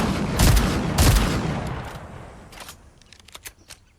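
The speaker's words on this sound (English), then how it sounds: "So here's the reload speed of the 5-shot drum mag on the Gatekeeper shotgun." A 5-shot drum magazine reloads into a Gatekeeper shotgun in Fortnite, beginning with two loud bursts close together, followed by a few quieter mechanical clicks and clacks with no voices.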